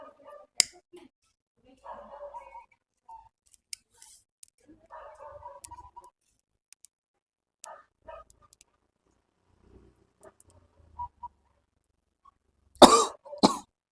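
A few scattered coughs and throat clearing from burnt red chili smoke, close and quiet, spread over several seconds, ending with a louder burst of harsh coughing.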